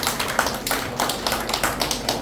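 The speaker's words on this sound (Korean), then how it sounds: "우리 다 같이 박수로 응원의 박수를 한번 먼저 보내겠습니다" Audience applause at a Korean presidential candidate endorsement rally, a steady wash of many hands clapping together, dense and continuous at moderate loudness with no talk over it.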